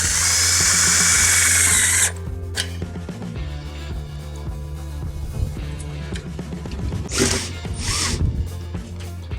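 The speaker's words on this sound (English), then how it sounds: "I'm going to switch out with a longer bit. And we're going to secure" A power drill with a longer bit drives screws to secure the top of a stair rail, a loud continuous whir for two seconds, then lighter intermittent ratcheting and mechanical clicks with short bursts of drilling, close by.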